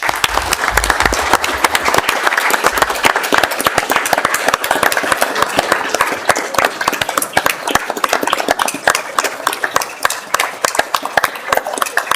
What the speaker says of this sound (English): if everybody would join us in a round of applause, thanking everyone for their work.